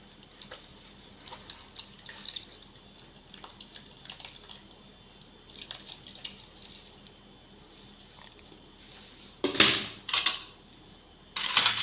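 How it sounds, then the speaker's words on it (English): Homemade Greek yoghurt is strained of its whey, giving quiet, scattered wet squelches and trickles, with a louder burst of sloshing near the end, close by and with no talking. "So I'm going to filter the water out."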